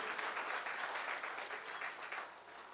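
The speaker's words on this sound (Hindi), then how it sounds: "आप सबों के लिए मिलकर बहुत जोरदार तालियां बजाना चाहते हैं" Dense, continuous applause from a large audience at a business award show in Patna fills the clip, steady and loud throughout before easing slightly at the end.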